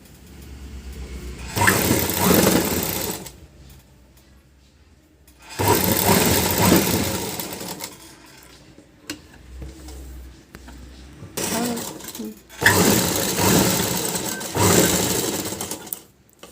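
Sewing machine stitching a blouse, running in three loud bursts of a few seconds each, separated by quieter pauses with faint handling noise.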